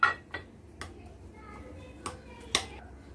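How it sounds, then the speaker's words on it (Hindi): A chicken marinade of dry spices is stirred in a bowl, making a few sparse, light clinks and taps of a utensil against the bowl at close range. "और इसको हम अच्छे से मिक्स करेंगे अभी।"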